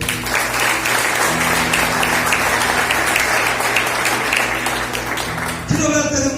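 A church congregation applauds continuously at close, loud range, with steady hand-clapping and a faint underlying hum before a brief musical tone or sound cuts in near the end.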